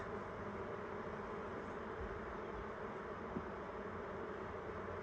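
A steady, dense buzzing of a honeybee swarm fills the air continuously, a low, even drone without pauses, during a swarm catch.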